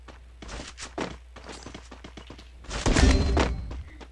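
A grenade is thrown in the Free Fire video game, with scattered thumps and taps followed by a louder, heavier boom in the middle of the action.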